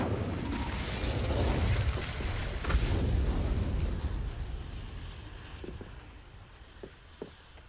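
A fire spell cast in the video game Hogwarts Legacy, a loud rushing burst of flame that swells for a few seconds and then fades, followed by faint scattered pops and crackles.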